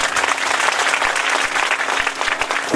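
An audience at a Bhagwat katha religious gathering claps loudly to welcome guests, a dense, close burst of applause that holds steady throughout.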